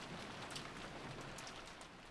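Steady rain falls throughout, a soft even hiss of drops on a surface with a few slightly brighter patters, moderately quiet and unbroken, with no voices.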